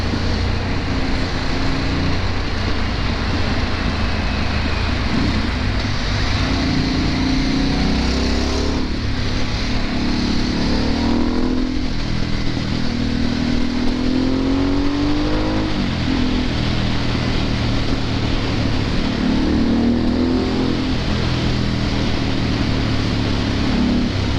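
A Harley-Davidson Sportster S motorcycle being ridden, a continuous close engine rumble with wind noise, rising and falling in pitch through repeated throttle and gear changes.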